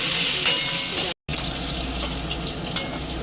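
Sliced pointed gourd (potol) fries in oil in a pan with a little salt, browning steadily. A continuous, close sizzling crackle runs throughout, briefly cut by a short gap of silence.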